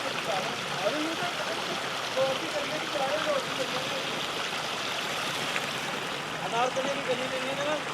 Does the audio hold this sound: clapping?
no